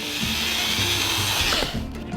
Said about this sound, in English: Just drill another hole